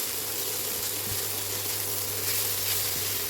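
Stuffing filling with sausage sizzles and crackles steadily in a hot pan for baked stuffed eggplant, a constant close fry with a couple of soft stirring knocks.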